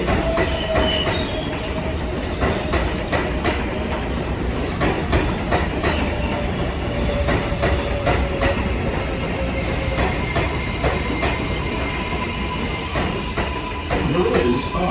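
An R188 7 subway train rolls through 33rd Street–Rawson Street station during the morning rush, its wheels clacking rhythmically over rail joints with faint squeals, loud and close for the whole stretch.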